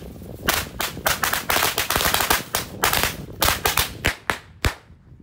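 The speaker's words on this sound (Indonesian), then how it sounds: "Dan ini mercon korek terbesar, terpanjang 5 tor sekaligus." Mercon korek 5 tor firecrackers go off inside a water jug in a rapid string of sharp, loud bangs. About two dozen irregular cracks crowd together at first, then thin to a few isolated pops before falling silent.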